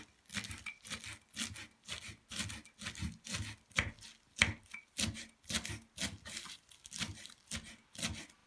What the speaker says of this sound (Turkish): Bir tutam maydanozumuzu da ince ince kıyalım.